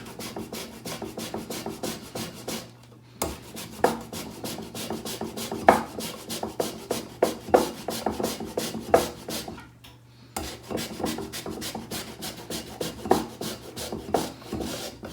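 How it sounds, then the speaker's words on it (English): A rasp grater shredding food finely into a non-reactive bowl in a home kitchen, steady rhythmic scraping strokes close up, with two brief pauses. "we're going to use a rasp grater into a non-reactive bowl"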